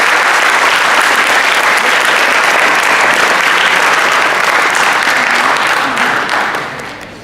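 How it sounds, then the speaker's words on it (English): Applause for a coach at a high school fall athletic awards assembly: a large crowd claps loudly and steadily for about six seconds, then fades away at the end. "round of applause for Coach Watkins."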